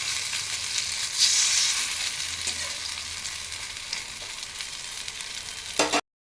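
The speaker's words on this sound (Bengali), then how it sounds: "বড়াগুলো উল্টে দিচ্ছি, একটু আস্তে প্রথমে লো করে দিয়ে ভাজলে কি আর বলো তো, তারপরে খুব সুন্দর ভাজা হবে।" Marigold-leaf fritters frying in oil over low heat: a continuous close sizzle and crackle, with a brief louder burst early on as the fritters are turned, then a soft clatter before it cuts off.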